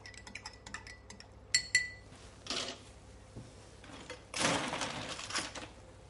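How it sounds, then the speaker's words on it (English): Marmalade being mixed into drinks before shaking as part of a breakfast cocktail, heard as scattered clinks and tapping of utensils against glassware, with a few louder bursts of stirring and scraping, fairly close and without talk. "we're going to mix it a little bit to allow the marmalade to mix well in the drinks"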